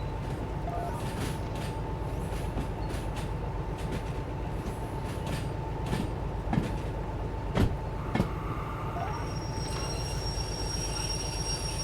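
A train runs in a passenger-rail video game, with a continuous low rolling rumble and steady track noise throughout, broken by a few faint clicks and a soft high tone near the end.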